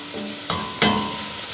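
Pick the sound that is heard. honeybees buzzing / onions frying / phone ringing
onions frying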